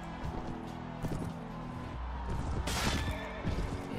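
A horse whinnies in the medieval combat game Mount & Blade: Warband, a loud neigh rising over a dense, continuous battle din of clashing, hooves and noise.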